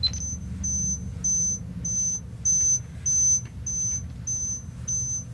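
A 6,000 hertz test tone sounds as a sharp, high-pitched beep pulsing about nine times in an even rhythm, each burst roughly a third of a second long, over a low background rumble.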